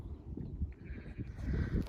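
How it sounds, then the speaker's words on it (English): Sheep bleating outdoors in a field, a wavering nasal cry rising toward the end over rumbling wind noise, fairly close, with no talk. "The sheep have said no."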